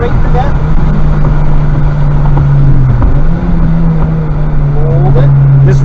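A Honda Civic Type R engine drones steadily on a race track, a sustained hum heard from inside the car with the pitch rising slightly under acceleration, while an instructor talks over it throughout.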